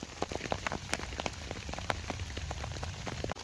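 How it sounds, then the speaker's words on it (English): Rain patters on a surface nearby, with scattered drops tapping irregularly over a soft steady hiss. "The rain came as predicted."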